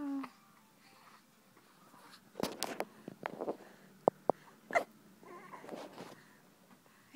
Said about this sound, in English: You got those hiccups, don't you?